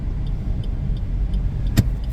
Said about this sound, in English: this is what it's like driving in Cebu at 5:30